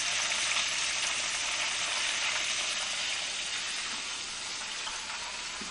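Chicken fried steak sizzles in hot oil on medium-high heat, a steady, broad, hissing crackle that stays even and close throughout with no voices.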